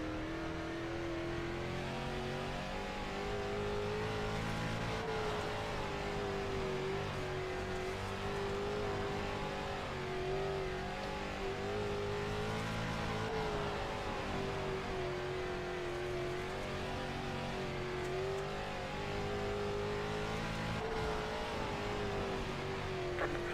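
A race car engine in a racing video game holds a steady, loud drone with a rising and falling pitch as it revs and shifts through a lap, continuous and close throughout with no talking.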